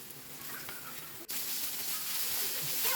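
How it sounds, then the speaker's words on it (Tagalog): Cornstarch-coated tuna frying in hot oil, a steady loud sizzle and hiss that briefly drops out then resumes, with faint voices in the background. "So prituhin natin yan sa mainit na mantika mga ka-cooks."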